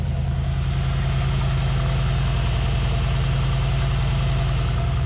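A 2020 Mercedes G65 AMG V12 idles close by, a deep steady rumble with a pulsing low throb and constant exhaust burble, no voices.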